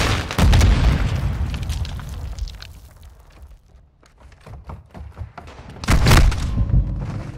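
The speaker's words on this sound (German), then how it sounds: "Werfe eine Granate, kommt eine Blendgranate!" Grenade blasts in Modern Warfare 2, a loud booming explosion at the start, scattered thuds and pops through the middle, then a second heavy boom near the end, with battlefield noise between.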